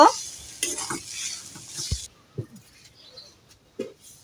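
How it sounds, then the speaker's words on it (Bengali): Mashed taki fish bhorta is mixed with mustard oil: a brief wet hiss, then a few soft squelches and scrapes, close and quiet, with pauses between them. "সরিষার তেল এটা ভালোভাবে এখন মিশিয়ে নিব"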